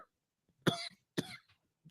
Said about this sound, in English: oh, you got the cough.